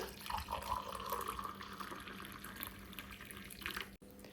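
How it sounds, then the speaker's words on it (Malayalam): Boiling water pours steadily from a glass into a bowl of puttu rice flour, a continuous close liquid stream running for about four seconds before a brief break, with no talking. "ചൂടുവെള്ളം പുട്ടുപൊടിയിലോട്ട് ഒഴിച്ചു കൊടുക്കുക"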